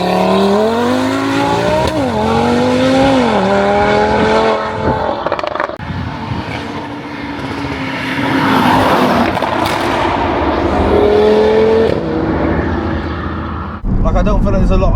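A 700 bhp big-turbo Stage 3 Audi RS3 driven hard on the street, engine note loud and close, rising and falling through gear changes with a brief squeal and a sharp cut near the end, voices talking over it.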